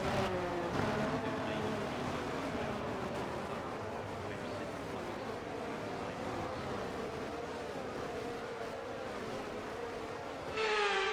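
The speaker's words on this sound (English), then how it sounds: "The formation lap gets underway then" F1 cars on a formation lap at Jeddah in the F1 23 video game in dry conditions give a steady engine drone with shifting pitch sweeps, at a moderate level throughout, ending on a brief louder burst.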